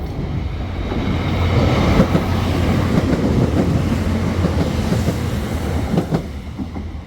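A train rumbles past the Dunmurry Glebe Road level crossing in Belfast, loud and close, a steady roar with rhythmic wheel clatter throughout and no voices.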